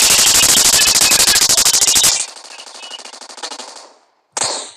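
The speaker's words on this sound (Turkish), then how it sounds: "Bu arada bayağı silah sesi var ha." Loud, rapid automatic gunfire in a video game rattles for about two seconds, then quieter fire continues and fades, followed by one sharp final burst.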